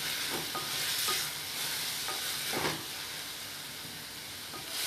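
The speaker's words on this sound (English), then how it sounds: "Mix it nicely and then let it cook for 2 to 3 minutes over medium heat." Tomato masala for an Indian masala pasta cooks over medium heat, a steady close sizzle and hiss broken by several scraping spoon strokes against the pan.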